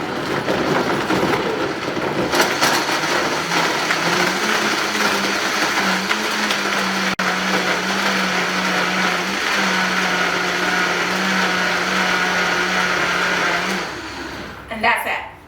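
A countertop blender whirs loudly and steadily while mixing chia seed pudding, its motor tone shifting slightly as it settles into a constant drone for about twelve seconds before cutting off abruptly.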